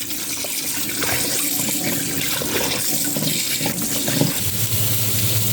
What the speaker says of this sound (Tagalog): hugasan natin yung karne at iluluto na natin